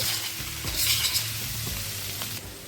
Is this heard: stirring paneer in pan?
yes